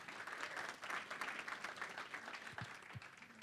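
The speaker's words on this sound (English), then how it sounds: "please give them a round of applause" An audience at a creative community gathering gives a short round of applause, quiet and somewhat distant, with a few low thumps mixed in.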